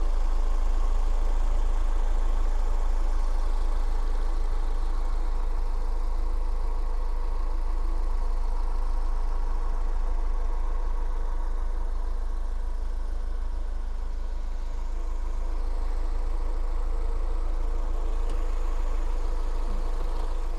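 A 2003 Toyota MR2 Spyder TRD sports car engine idles steadily with a deep, even rumble, close by and unbroken for the whole stretch, with no voices.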